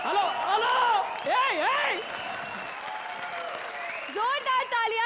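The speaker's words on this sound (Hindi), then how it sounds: "जोरदार तालियां शरद भारती और परेश के लिए।" Studio audience applause for a comedy act on the Indian TV show Comedy Circus 3, clapping steadily for about five seconds beneath sliding, voice-like tones and other sounds.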